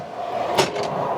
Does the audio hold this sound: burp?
no